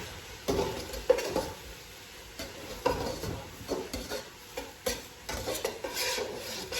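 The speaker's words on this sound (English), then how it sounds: "Mix it with a knife" A knife stirs soup in a pot, scraping and clinking against the metal in an irregular series of close, moderately loud strokes with brief pauses between them.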